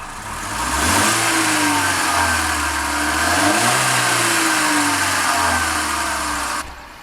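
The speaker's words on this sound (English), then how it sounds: "Little Jetta exhaust. This is gonna be the before." A Volkswagen Jetta on its stock exhaust revs up and settles twice, a steady mid-pitched engine drone rising and falling, loud and close with no talk.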